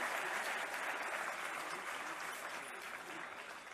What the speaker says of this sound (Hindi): एक बार जोरदार तालियां इन सभी मेधावी छात्र छात्राओं के लिए।